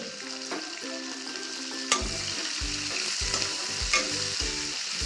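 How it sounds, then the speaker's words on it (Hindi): Four large chopped onions frying in oil in a pan to make the gravy for a jackfruit curry, a steady close sizzle with occasional stirring scrapes and a faint tonal hum underneath, with no one talking. "प्याज की ऐसे ही हमें ग्रेवी बनानी है, सिर्फ इसको तेल में ही गला के"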